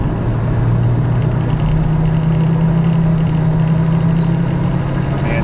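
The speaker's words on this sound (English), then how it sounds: "Let's give it a little juice on this on-ramp here." A Volvo XC70 engine pulling hard up an on-ramp, a steady loud drone with a low hum and road noise, heard from inside the cabin with no talking.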